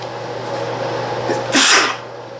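A single sharp sneeze bursts out near the end, loud and close, after a stretch of quiet room hum.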